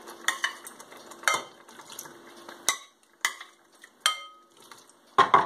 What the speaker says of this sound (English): then I put inside in saucepan the chickpeas